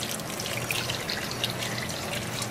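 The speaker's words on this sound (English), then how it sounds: "Now to get him all rinsed up." Water runs steadily over a six-week-old Aussiedoodle puppy during a bath rinse, a continuous close splashing trickle with no talk.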